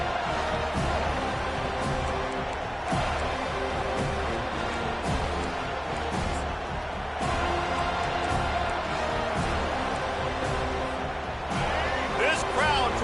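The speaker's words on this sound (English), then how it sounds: "This crowd trying to show them what it's going to be like all day in this house." Football stadium crowd at a Florida State game roars steadily throughout, a dense continuous wall of cheering and noise with scattered sharp bursts, while a play-by-play commentator talks over it.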